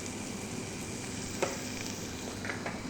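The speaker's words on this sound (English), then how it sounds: "The onions are ready to go in." Onions and cumin sizzle softly in a pan for a few seconds, a steady quiet frying hiss with a couple of faint utensil taps and no voices.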